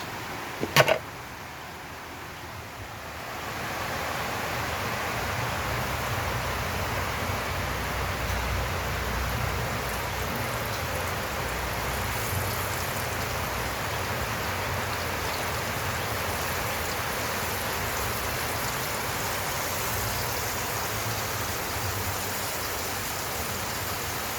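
A second batch of sweet spicy dilis (small dried anchovies) drops into hot oil after a sharp clatter, then fries with a loud, steady, rain-like sizzle that holds for the rest of the stretch.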